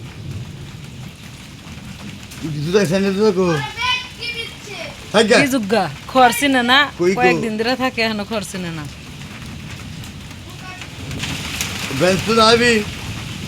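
Steady rain falls as a constant background hiss while people talk nearby, with children's voices among them.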